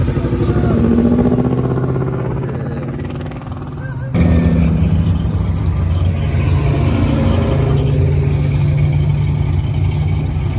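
A loud truck engine rumbles continuously nearby, with a throaty roar that swells slightly partway through; no one speaks.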